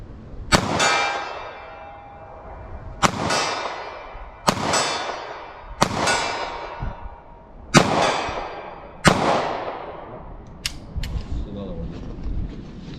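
A short-barrelled pistol fires Federal HST 147 gr 9mm +P rounds: about seven sharp, loud reports spaced one to two seconds apart, each ringing out before the next, with a couple of fainter cracks near the end.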